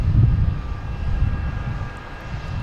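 British Airways airliner turning onto final approach at Boston Logan, a distant low engine roar steady in the background with no talk.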